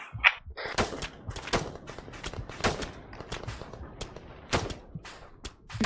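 Rapid gunfire in the military shooter Arma 3: dense, irregular volleys of sharp shots and bursts, some close and loud, others farther off, running continuously across the whole stretch.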